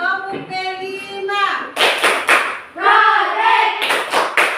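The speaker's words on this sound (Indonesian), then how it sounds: "Ayo, tepuk P5." A class chants together in a classroom clap routine, then claps in short sharp bursts between the chanted lines, loud and close.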